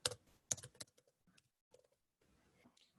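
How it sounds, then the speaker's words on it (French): Keys clatter on a computer keyboard as a code is typed in, quick close clicks in short irregular bursts with small gaps of near silence. "Je tape mon code"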